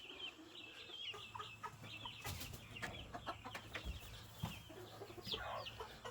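A mother hen and her baby chicks in a backyard pen by a feeder make faint, scattered clucks and thin chirps, with soft scratching and rustling between calls.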